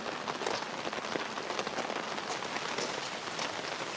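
Heavy rain pours down steadily in an outdoor street setting on a cold, windy day, a dense continuous hiss of drops striking surfaces with no voices.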